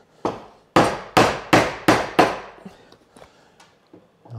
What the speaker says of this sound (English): if I chopped all of that at one time, my chisel would probably bruise in and